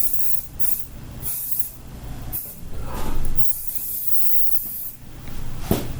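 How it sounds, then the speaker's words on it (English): Hairspray sprays onto hair in a series of short aerosol bursts, several close hisses with brief pauses between them, during a mullet-to-bowl-cut styling with a curling iron. "Way too much hairspray."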